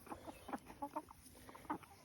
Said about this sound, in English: There's the two roosters.